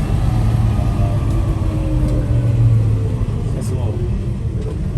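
A truck's engine rumbles low and steady as gas is rolled on, the revs building gently beneath someone talking nearby.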